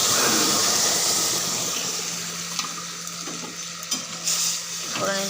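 Black cumin seeds and dried chilli temper in hot oil with a loud, dense crackling sizzle that starts strong and slowly settles, with a few sharper pops and stirring knocks near the end.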